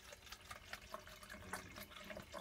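Distilled water pours into an HHO generator, a faint, continuous trickle and splash with small bubbling bursts throughout, no voices.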